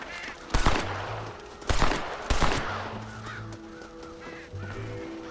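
Three sharp gunshots ring out a second or so apart in Red Dead Redemption, followed by honking and cawing birds scattering, with low buzzing tones underneath.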